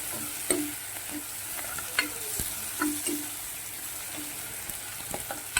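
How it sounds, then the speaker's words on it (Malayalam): Curry leaves and browned onions fry in a pan, a soft steady sizzle broken by rhythmic scraping strokes of a spoon stirring the mix, heard up close. "ഉള്ളിയൊക്കെ ഒന്ന് നിറം മാറി വന്നു. അപ്പം ഞാനതിലേക്ക് കറിവേപ്പില ഇടുകയാണ്."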